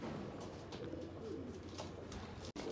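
Racing pigeons coo softly in their loft, a low murmuring under steady background noise, faint and continuous, with no talk over it.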